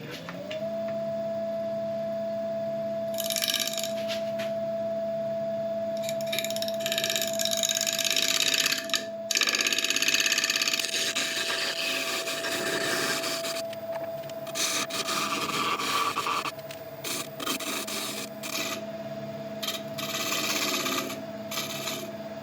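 A burl spins on a wood lathe as its surfaces are cleaned up, a steady motor hum under scraping and cutting noise that swells and drops in bursts as the tool engages, close and continuous with no talk.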